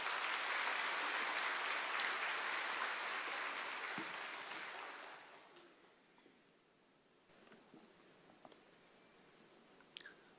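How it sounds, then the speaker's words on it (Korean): A church congregation at a Sunday worship service claps in welcome for a visiting missionary speaker, a thick, loud burst of applause that tapers off after about five seconds, leaving only a few scattered sounds. "환영의 박수로 맞이하겠습니다."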